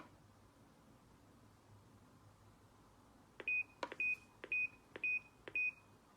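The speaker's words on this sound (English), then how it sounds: "Hold down the pairing button and you'll hear a beep" Five short, bright electronic beeps from a wireless driveway alarm receiver during pairing sound in an even rhythm after a few seconds of quiet room hiss, each crisp and close.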